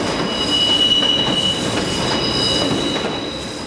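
An empty Rome Metro Line A train runs fast toward Battistini, a loud, close, steady rumble of rail cars with sustained high wheel squeal and a faint rhythmic clatter, no voices.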